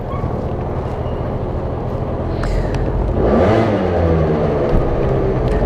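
A Peugeot Ludix two-stroke carbureted scooter engine idles, then the throttle is blipped and it revs up, loud and close, with the pitch rising and falling.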